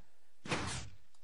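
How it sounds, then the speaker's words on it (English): A Minecraft door swings open in a video game, triggered by a redstone combination lock: one short broadband creak-thud about half a second long, fairly close, with no talk over it. "The door will stay open for a good amount of time for you to get through, and it'll automatically close."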